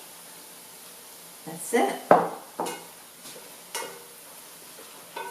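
Brussels sprouts tossed with teriyaki sauce and Vermont maple balsamic in a pan, a few scraping clatters of utensil on cookware over faint sizzling, with a brief spoken remark in the middle.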